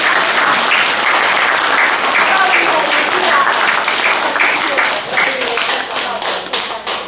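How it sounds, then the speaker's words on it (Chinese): A church congregation at an Amis-language joint Sunday service bursts into sustained, dense applause welcoming a married couple, the clapping steady and loud for several seconds before thinning toward the end, with faint voices underneath. "我们还没有拍掌，欢迎你。"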